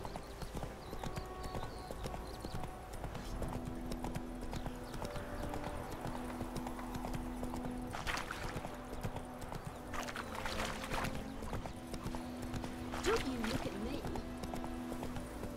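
Hooves of Roach, Geralt's horse in The Witcher 3, clip-clop steadily at a gallop in the game, with a brief whinny and game music underneath, while a streamer talks over it.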